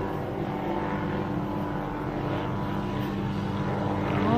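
A police helicopter circles low over a neighborhood, a steady droning engine and rotor hum that swells slightly louder toward the end, with no one speaking.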